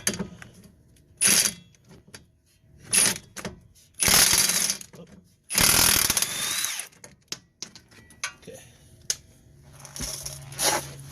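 Bursts of a power tool with a 22mm socket whirring and ratcheting in short spurts, with metallic clicks and clanks between them, close by, during a Toyota Highlander lower ball joint replacement.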